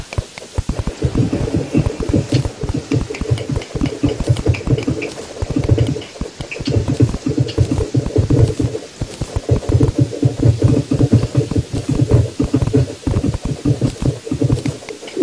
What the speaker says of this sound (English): raining again